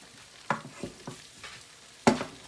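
Jamaican roast chicken in a Remoska cooker is turned over, giving a few short, soft sizzles and scraping clatters, the last one the loudest, with quiet pauses between them.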